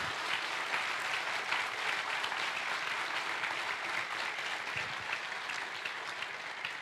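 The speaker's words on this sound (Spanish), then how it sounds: "Eso merece un aplauso" A church congregation applauds during a bilingual Spanish and Portuguese sermon, a steady, fairly distant roar of many hands clapping evenly throughout, with no voices over it.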